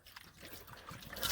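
Bleach splashing onto a T-shirt for marble dyeing, a soft wet trickling and spattering of liquid that runs steadily and faintly, building slightly louder toward the end.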